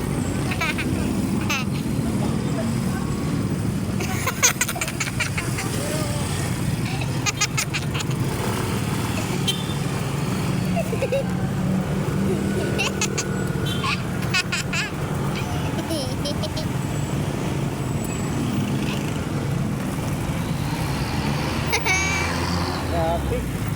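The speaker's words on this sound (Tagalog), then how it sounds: "Traffic." Steady road traffic noise of passing cars, trucks and motorcycles, a continuous rumble with occasional honks and brake hisses, voices faintly mixed in underneath.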